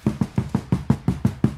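Eight quick, evenly spaced low thuds from a kick drum played with foot pedals, each beat made of two close hits, played alone.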